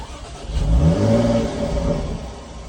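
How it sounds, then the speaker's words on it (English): A 2018 Jaguar F-Type engine runs and revs briefly, a low mid-pitched rumble that swells and then settles to a steady idle. "So you have to turn on the engine of the car to make it work."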